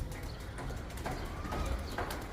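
Soft cooing of pigeons amid outdoor background noise, a few low murmuring calls spread over a couple of seconds.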